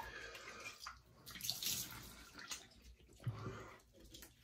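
Running water from a tap during a warm rinse in a shaving routine, a steady splashing flow with brief louder surges, close by and heard alone.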